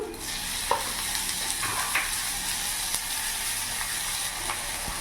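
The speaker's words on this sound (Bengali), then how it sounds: "আদা লঙ্কার পেস্ট আমি দিয়ে দিলাম।" Ginger and green chilli paste frying with onion in a wok for a Bengali katla fish curry: a continuous close sizzle with occasional stirring scrapes and clicks, steady in level throughout.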